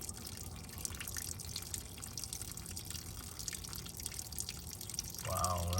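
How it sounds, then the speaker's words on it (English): Oil and water drain out of a cold engine during a fluid change, a steady faint trickle and drip of liquid running continuously, with a brief louder splash near the end. "I wanted to separate the oil from the water, so I can drain the oil water out first"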